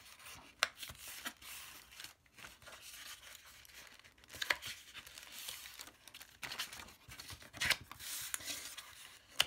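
Paper is folded and creased for a pop-up paper house, with crinkling, rubbing and sharp creasing strokes close up, continuing in irregular bursts.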